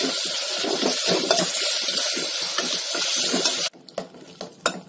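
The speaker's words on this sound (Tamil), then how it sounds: "இப்போ தக்காளி சேர்த்து வதக்கிடலாம். நல்லா மிக்ஸ் ஆகி குழைந்து வரட்டும்," Chopped tomatoes and vegetables sizzling and being stirred in a hot pan for Indian vegetable kuruma, a loud continuous fry with spoon scrapes that cuts off abruptly near the end, leaving faint clatter.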